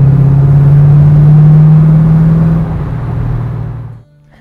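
A 1969 Chevrolet Camaro RS/SS restomod with a 502 V8 rumbles loudly up close, engine droning steadily before easing off and cutting to near silence at the end.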